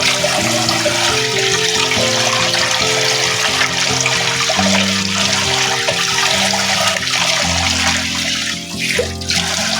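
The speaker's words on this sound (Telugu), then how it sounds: "మనం ఇప్పుడు ఇడ్లీ రవ్వని ఒక 3 టైమ్స్ కడుక్కోవాలండి" Idli rava is washed with water by hand, a continuous sloshing and trickling of water that runs steadily throughout, with music playing underneath.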